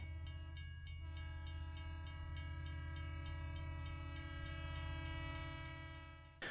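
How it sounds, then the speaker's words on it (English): A departing train in an audio story sounds its sustained, multi-tone horn loudly and continuously, while rhythmic clickety-clack wheel beats run steadily underneath the whole time, without narration. "A little later, the train departed,"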